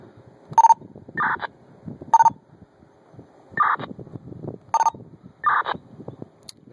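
Short electronic chirp tones from a Motorola HT1000 radio with the TPT hack alternate with brief bursts of radio squelch, repeating several times in a steady pattern, close and clear with no talking.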